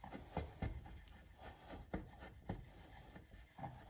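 A chisel scrapes and burnishes wood by hand while a polychromed carving is shaped, a run of short, close, soft rubbing strokes in an uneven rhythm, quiet, with no talk.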